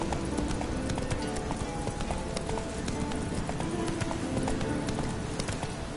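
Roach the horse gallops in The Witcher 3, with a steady, fast clip-clop of hooves running for the whole stretch over a busy game soundtrack, and a rider's voice faintly in the mix.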